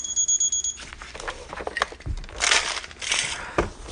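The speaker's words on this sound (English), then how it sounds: "I have a pillbox going off." An electronic pillbox alarm gives a quick run of repeated high beeps, which stop abruptly and give way to close handling clatter and rustling.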